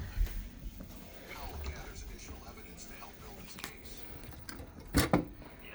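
A storage drawer is pulled out in a standard balcony cabin aboard the cruise ship Carnival Breeze, giving a short sliding clatter near the end over a faint, busy room background.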